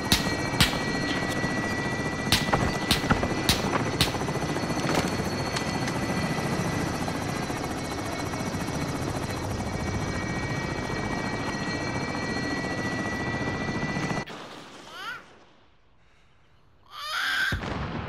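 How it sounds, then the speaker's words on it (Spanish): A hostile attack helicopter in Call of Duty Modern Warfare drones loudly and continuously, rotor thump mixed with sharp gunfire cracks early on, then cuts to near silence before the roar returns. "Helicóptero de ataque hostil con dinero."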